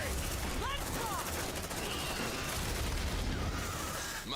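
Dense suppressive gunfire rattles continuously at close range in Aliens: Dark Descent, a loud unbroken fusillade of rapid shots with shrill creature shrieks cutting through the din.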